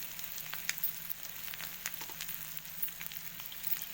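Egg masala noodles frying in a pan, giving a steady, fairly quiet sizzle with scattered crackles and pops, heard alone without talk.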